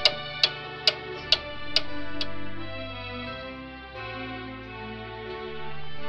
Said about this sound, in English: What sound do clocks make? A clock goes tick-tock